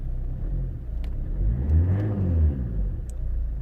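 A Ford Mondeo with an engine malfunction revs up on the throttle, rising to a rumbling peak and falling back, then rising again, loud and close, with no voices.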